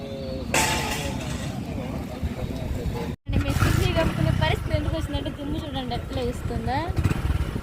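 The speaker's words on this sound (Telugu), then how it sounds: "లారీ" A lorry passes along a dusty roadside, its loud, rough engine roar rising and falling in pitch, with a brief drop-out midway before the rumble continues.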